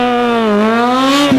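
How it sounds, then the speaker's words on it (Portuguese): A powerful motorcycle revs hard and steadily during an attempted burnout, its engine note rising loud and close for over a second before a sharp, choppy break at the end. "O Eduardo acelerou a moto dele, só saiu fumaça do pneu."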